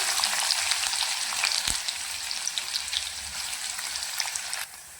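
Onion frying in hot oil with garlic, cumin and mustard seeds for a dry cauliflower dish, a steady close sizzle with faint crackles and a brief stir click, going on alone without talk.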